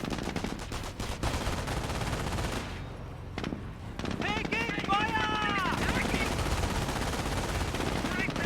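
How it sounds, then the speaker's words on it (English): Machine gun bursts and gunfire in a Company of Heroes 2v2 match, dense rattling fire with a brief lull, then more shooting mixed with whistling, chirping effects and background battle noise. "Receiving American fire."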